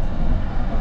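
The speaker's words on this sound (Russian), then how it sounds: "так вот выглядит Крымский мост с иллюминатора поезда" From inside a passenger train crossing the Crimean Bridge comes a loud, steady rumble of wheels and carriage noise, heard close and unbroken with no talking.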